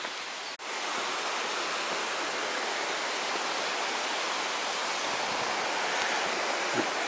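Llawlech river rushing beneath Pont Rhinog, an 18th-century stone pack horse bridge, a constant close hiss of flowing water with a brief knock near the start.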